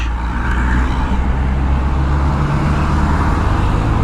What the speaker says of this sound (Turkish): Şunu da sollayalım abi de burada trafik oldu